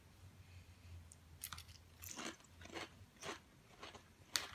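Several crisp, close crunches as a crunchy snack chip is bitten and chewed, coming in irregular bursts against a quiet background.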